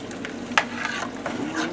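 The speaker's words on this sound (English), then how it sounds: "Alright, the gravy's boiling." Thick gravy bubbles and spits in a pan while being stirred for country-style fried chicken, soft continuous sizzling with small pops and scraping stirs.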